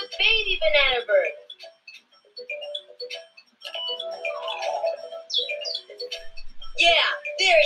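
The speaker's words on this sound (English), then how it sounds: "listen for the baby banana bird." Baby banana bird call in a Where's Mickey cartoon, a bright warbling chirp that recurs in short bursts, with voices talking between the calls.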